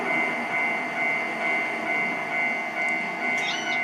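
A train in the Trainz 12 game at a station and railroad crossing, a steady rumbling run with a faint whistle-like tone near the end.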